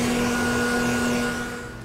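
A vacuum pump draws down a vacuum bag over an epoxy fiberglass repair, running with a steady loud hum and a faint whine that softens slightly toward the end, with no speech.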